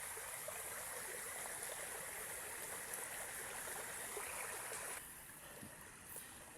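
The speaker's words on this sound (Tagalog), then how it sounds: "Malaki tong ilog na to pero maliit na yung tubig" Steady rushing hiss of a large, low, nearly dried-up river flowing, continuous and soft, easing slightly toward the end, with no voices.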